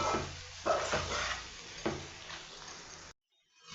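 Chicken frying in oil with onion, tomato and green chilli gives a steady sizzle with a couple of sharp stirring scrapes against the pan, then cuts off abruptly near the end.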